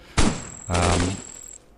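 Large cannons fire in the robot roguelike Cogmind, two heavy booming blasts in quick succession, the second longer with a ringing tone, loud and close with no talk.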